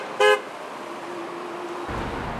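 A passing car gives one short, loud horn toot near the start, followed by a faint steady tone and the low rumble of traffic on the roadway.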